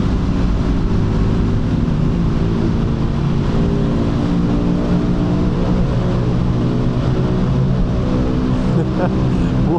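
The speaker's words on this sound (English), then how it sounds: "The sound of this bike, wow, wow, wow, wow, wow." Motorcycle engine on a night ride, a loud steady drone that runs without a break for the whole clip, low and close, with no clear revs standing out.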